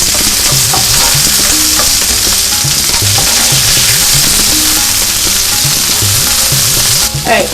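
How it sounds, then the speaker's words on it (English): Onions fry loudly in a pan for an Indian dish, a dense continuous sizzle with a rhythmic scraping from steady stirring, close and unbroken until a brief pause near the end. "Now you're going to let your onions get to like a brown color."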